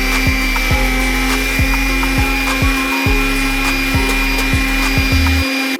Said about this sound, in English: I'm just taking the sander and rounding off some of the edges because the plastic's pretty sharp right here.